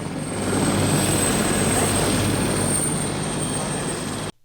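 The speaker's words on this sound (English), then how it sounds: "you can hear the noise of the Cobham helicopter behind me" A Cobham helicopter drones loudly and steadily nearby, a dense whirring roar with a high whine, that cuts off abruptly at the end.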